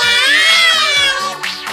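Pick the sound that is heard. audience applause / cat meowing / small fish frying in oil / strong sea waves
cat meowing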